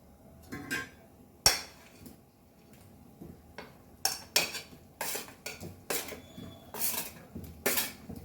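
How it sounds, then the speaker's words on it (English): Fried elephant foot yam pieces for a Goan suran tonak curry tumble into a pan and are stirred, giving a series of sharp, close metallic clatters and scrapes with quiet gaps between. "Now we will add our fried suran."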